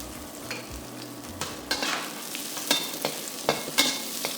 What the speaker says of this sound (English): Then put in the aromatics. That's the ginger, garlic, and the white parts of the spring onions.